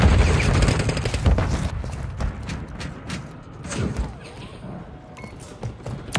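Dense bursts of automatic gunfire crackle through a Call of Duty Modern Warfare III Kill Confirmed firefight, loud and continuous at first, then thinning into scattered shots and distant booms with faint hoofbeat-like clatter.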